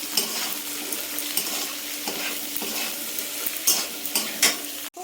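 Sliced mushrooms with chopped garlic fry in a pan, a steady close sizzle broken by the scrape of a spatula stirring, with a sharp clatter at the end.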